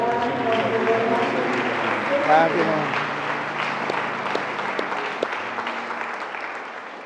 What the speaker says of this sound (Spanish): un aplauso para Monseñor también